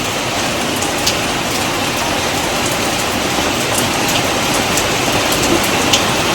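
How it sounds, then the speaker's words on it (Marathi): Heavy May downpour at Chandbibi Mahal in Ahmednagar, a steady, dense roar of rain hammering surfaces with constant hiss and no pause or voices throughout. "भयानक पाऊस चालू झाला मे महिन्यात"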